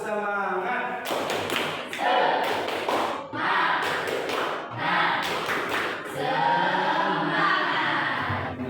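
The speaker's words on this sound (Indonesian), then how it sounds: "Coba tepuk semangat." Schoolchildren do a rhythmic spirit clap in a classroom lesson, with loud patterned bursts of clapping and chanting voices in repeated phrases, fairly close.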